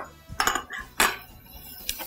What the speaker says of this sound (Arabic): نقلب بقى الكلام ده كله مع بعضه